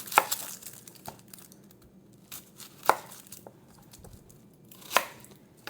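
An onion chopped on a cutting board, with three sharp, well-spaced knife strikes and softer crisp cutting sounds between them, close and clear with no talking.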